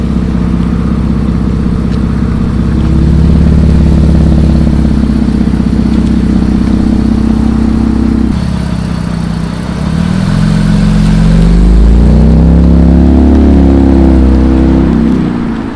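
Infiniti Q50 with the VR30 engine revving through a newly installed valved exhaust, a loud, deep continuous drone rising and falling through several revs, with no talking.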